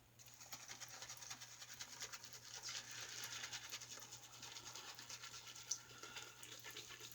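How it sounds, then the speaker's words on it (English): A soft shaving brush swirls across the top of a tub of Karve Overlander shave soap, giving a steady, close, continuous scratchy brushing sound with faint rhythmic swishes and no speech. "I'm loading right from the tub without any issues at all."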